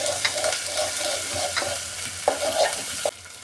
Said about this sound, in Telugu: అల్లం ఉల్లిగడ్డ పేస్ట్ ఇది బాగా నీరు ఇంకే వరకు నూనెలో మగ్గాలి